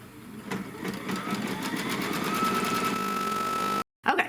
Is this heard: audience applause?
no